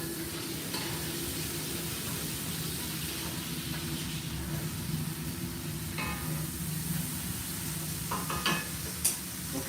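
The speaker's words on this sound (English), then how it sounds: "the pork is cooking good" Pork frying in a pan for sweet and sour pork, a steady sizzle throughout with occasional stirring scrapes and small pops, close and moderately loud, no talking.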